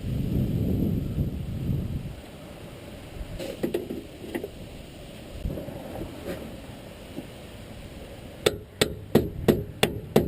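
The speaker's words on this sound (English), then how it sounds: "You basically hammer into the keyway on the spindle coming out of there." Hammer strikes driving a nut into the spindle keyway on a 1995 BMW 318ti E36 during tie rod work: a quick run of sharp metallic taps near the end, following quieter clanks and rumbling shop noise.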